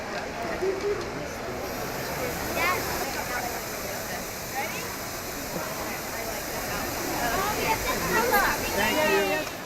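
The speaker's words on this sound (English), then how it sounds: "here I am at Fountain di Trevi" Water of the Trevi Fountain in Rome: a steady rushing splash fills the scene, with a crowd of voices chattering nearby and talk over the water throughout.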